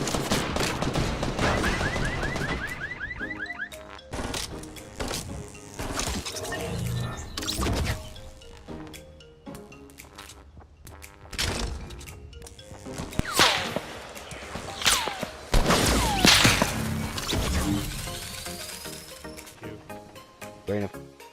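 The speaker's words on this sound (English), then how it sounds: "I have a clip of these traps being used" Traps going off in a video game: a busy run of sharp cracks, snaps and whip-like bursts, some in rapid clusters, over layered game effects and occasional voices, fairly loud and close throughout.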